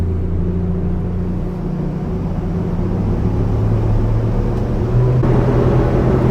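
An Axopar powerboat's engine throttles up and runs across glassy morning water: a steady, close, low engine rumble with broadband wash that swells slightly louder near the end.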